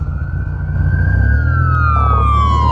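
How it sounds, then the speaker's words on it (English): An ambulance siren wails loud and close in a steady sweeping tone, then drops in pitch as the vehicle passes, over a low rumble of idling engine and road noise from a 1998 Dodge Viper GTS pulled over to the roadside. "we got an ambulance coming"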